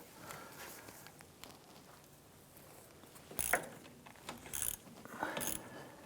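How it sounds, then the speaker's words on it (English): A ratchet fitted with an 11mm socket loosens a bolt near the steering wheel and brake pedal of a 1994–2004 Chevy S10, giving a few short bursts of close, sharp clicking over quiet handling noise. "Use an 11mm socket with your ratchet. Go ahead and loosen this bolt."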